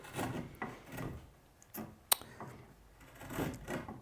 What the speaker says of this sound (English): it creates a shearing motion, which is just a super controllable way to run a chisel